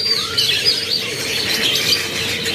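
Canaries of the white AF series chirp and twitter continuously in a shop, several birds overlapping at close range in steady, lively song with no voices.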